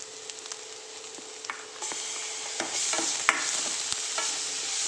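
Ginger garlic paste sizzles and fries steadily in a pan while a utensil scrapes and stirs it in irregular clicks, close up with no talking.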